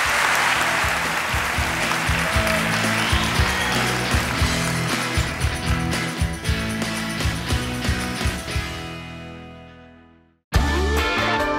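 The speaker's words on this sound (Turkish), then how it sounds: "Alkışlarla uğurluyoruz." A studio audience claps for departing contestants on the Turkish talent show Yetenek Sizsiniz Türkiye, steady applause mixed with rhythmic background music that fades out before the music briefly returns.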